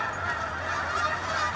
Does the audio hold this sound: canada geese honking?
yes